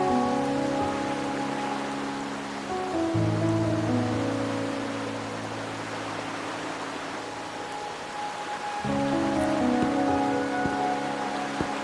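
Steady rain falls in the Wuthering Waves video game, a soft, even hiss that continues throughout, with background music playing over it.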